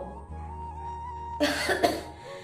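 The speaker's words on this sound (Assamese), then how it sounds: "আপুনি ৰাতিপুৱাই পৰা বহুত কাহি আছে" A couple of sharp, close coughs break through a quiet low hum.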